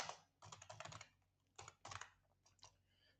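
C code being typed on a computer keyboard: quick, close bursts of key clicks in uneven clusters with short pauses between them.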